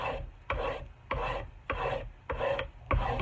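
Wood rasped off the front of an axe handle so the head can be re-hung, six steady strokes with even gaps between them, close and fairly loud, with no voices.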